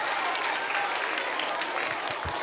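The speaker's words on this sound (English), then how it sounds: "Everybody give Frank a round of applause" A room full of people applauds in a steady, dense burst of clapping that fills the short stretch without pause, with no talking over it.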